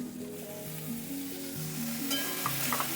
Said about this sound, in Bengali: এইভাবে কিছুক্ষণ ফ্রাই করার পরে আমি এখানে কিছুটা পরিমাণ আদা বাটা দিয়ে নিলাম